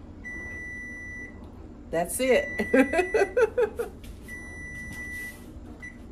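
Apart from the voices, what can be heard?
kitchen timer beeping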